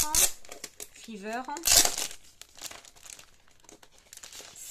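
Embossed paper sheets printed with large tropical leaves in a very dark green are crinkled and shuffled by hand in close bursts, with someone talking over the rustling.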